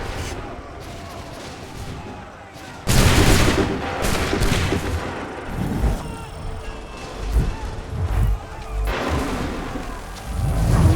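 A musket volley rings out in a battle scene in Assassin's Creed III, a loud burst of massed gunfire followed by ragged shots and rumbling combat noise, with a second surge near the end.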